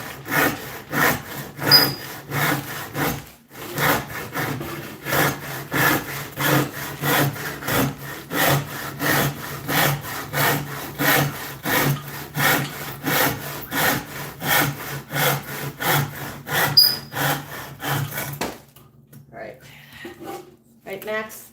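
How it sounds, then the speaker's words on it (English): A hand saw rasps through wood in steady back-and-forth strokes, close by and rhythmic, then stops near the end, leaving quiet shuffling. "That's just me sawing wood, folks."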